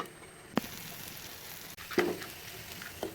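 Spices and tomato sauté in a pan for crab roast, giving a soft, steady sizzle with a few sharp clinks or stirring taps, close and fairly quiet.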